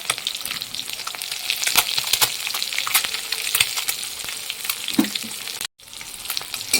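Steady crackling sizzle of country chicken eggs frying in hot oil in a pan, close and continuous, with a few sharper pops and a brief dropout near the end.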